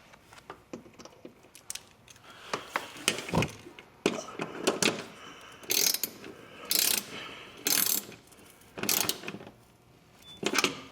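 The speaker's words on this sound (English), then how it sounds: "We'll get them started by hand and then we'll use the socket wrench." A socket wrench ratchets mounting screws into a hood panel on a Can-Am Maverick UTV, giving bursts of rapid close clicking separated by short pauses, repeated about half a dozen times.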